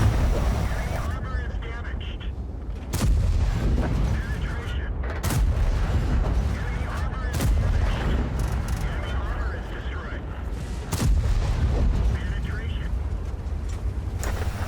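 Tank cannon fire in War Thunder from the E 100 Phönix, with several heavy booming shots spread over the span amid continuous rumbling battle noise and a speaking voice throughout.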